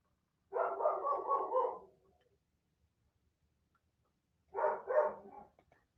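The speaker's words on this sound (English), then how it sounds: "I'm sorry she's barking so much." A dog barks in two short close bursts, each a rapid run of several yaps, separated by a few seconds of near silence indoors.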